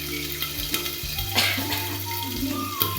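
Green peas dropped into hot oil and frying in a pan, a steady close sizzle with occasional pops and crackles and light stirring clinks throughout.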